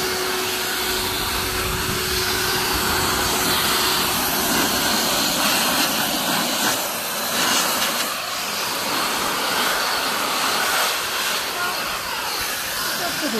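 A powerful air dryer roars continuously at close range, a loud broadband rush with a faint whine, steady for the whole stretch.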